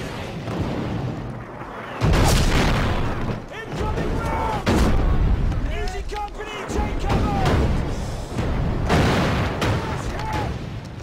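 Artillery rounds explode in a World War II combat scene from a war drama, with heavy booms and rumbling blasts recurring through the scene, mixed with gunfire, shouting and battle noise.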